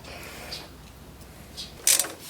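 A ratchet socket wrench clicks on a Jeep Cherokee XJ winch bumper: faint mechanical ticking with a couple of short metallic clicks and a sharper burst near the end.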